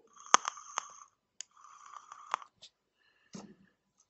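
An e-cigarette atomizer fitted on its battery crackles and pops in short bursts, several sharp close crackles with brief gaps, fairly quiet and alone.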